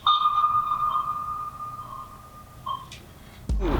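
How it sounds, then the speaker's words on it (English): Submarine sonar pings echo through the halls of an aircraft carrier in the Pacific: a long ringing tone sustains and slowly fades, a second shorter ping follows, then a sudden low thump closes the sequence, with no voices. "Occasionally, I would hear sonar pings ping throughout the halls of the ship."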